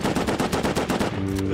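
Rapid automatic gunfire in a video game, loud bursts repeating in a fast steady rhythm, up close, during a fight near a submarine, then stopping as tonal game sounds take over.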